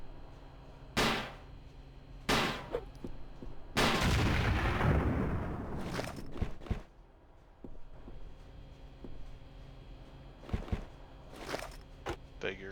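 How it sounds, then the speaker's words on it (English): Several heavy explosions from impact grenades in a submarine combat video game, a few sharp blasts spaced out followed by one big rumbling boom that decays over seconds, then scattered smaller bangs. "Time for an impact grenade, maybe."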